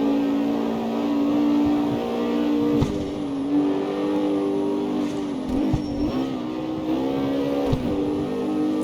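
A Ford Mustang in the CarX Street racing game holds a loud, steady high-speed engine drone, with brief dips and surges around gear changes, alone with no talk.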